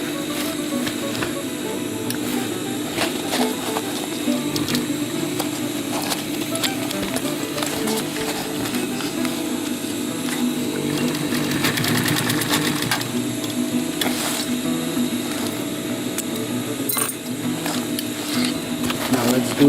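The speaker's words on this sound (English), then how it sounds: "Connect the middle points and do a stitching just to hold it in place." A sewing machine runs steadily, stitching a tacticool utility pouch panel in place, with a continuous mechanical whir and rattle throughout and no clear pauses.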